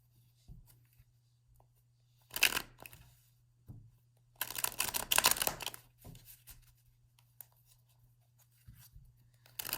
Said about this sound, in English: Let's do a hard shuffle here.